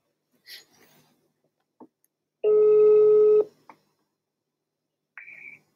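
Telephone busy signal after a live phone call line dropped: a single steady electronic tone lasting about a second, framed by scattered clicks and brief beeps in an otherwise quiet line.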